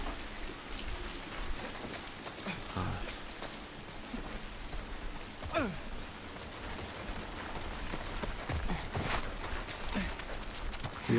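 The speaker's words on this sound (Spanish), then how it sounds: "Como llueve, ¿eh?" Steady rain pours throughout a Seattle setting in The Last of Us Part II, a dense hiss of drops on surfaces with scattered closer splashes and patters, continuous and fairly loud.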